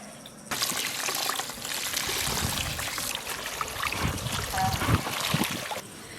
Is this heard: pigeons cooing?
no